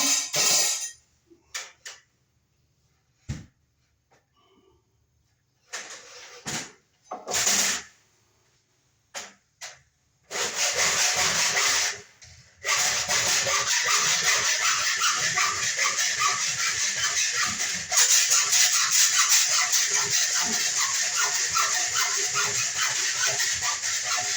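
Plastic wiremold raceway being cut to length for ceiling light wiring: a few scattered scraping bursts, then a steady, fairly loud rasping stretch with a quick stroke-like rhythm lasting about fourteen seconds, no talking.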